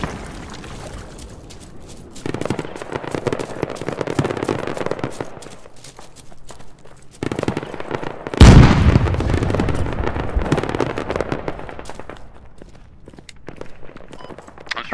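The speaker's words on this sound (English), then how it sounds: "What's exploding?" Explosions in the combat game Squad: scattered crackling pops and rumbles build to one sharp, loud blast midway, followed by a long churning roar that fades.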